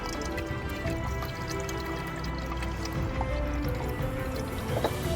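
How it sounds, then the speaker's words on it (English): Diesel fuel draining out of an old fuel filter from an Audi Q3 2.0 TDI Quattro, a continuous trickling, dripping liquid sound held close over a constant noisy background. "we're going to want to let the fuel drain out, and just hold the filter there for a second"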